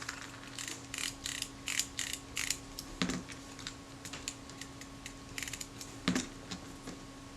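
Focusing or control ring on a Kodak Retinette type 022 camera being turned notch by notch, producing a close, quiet run of small ticking clicks in uneven bursts, with a couple of firmer clicks.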